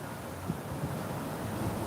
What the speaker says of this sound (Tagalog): Makita mo, mahangin.